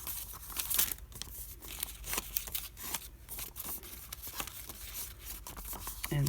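A paper envelope tag is folded over a template by hand, with soft crinkling, rustling and creasing sounds in irregular bursts, close and fairly quiet.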